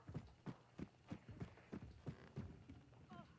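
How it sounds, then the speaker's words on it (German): Steady, rhythmic video-game horse hoofbeats clop along at an even pace, soft and slightly distant, with a brief whinny-like sound near the end, from the game Hunt: Showdown. "Aber die Pferde machen manchmal auch so Geräusche."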